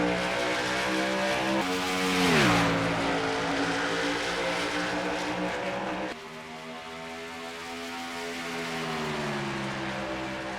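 Race trucks restart at the Icebreakers 200 race in Minnesota, engines roaring loud and close as they accelerate past in a tight pack, pitch rising and shifting with gear changes and passing trucks.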